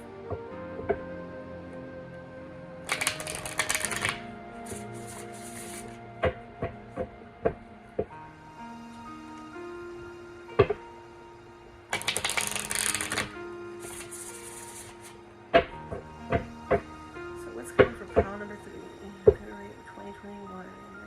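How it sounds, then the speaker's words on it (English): Tarot cards are shuffled in bursts of riffling rustle with scattered sharp card taps and clicks, close and fairly quiet, over a soft sustained musical background. "this card already fell out in the middle of shuffling"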